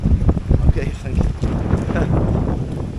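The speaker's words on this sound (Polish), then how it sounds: "wiatr wieje, czapkę mi porwał." Strong gusting wind batters the microphone outdoors on a blustery day in Barcelona, a loud, continuous rumbling roar with rising and falling buffets throughout.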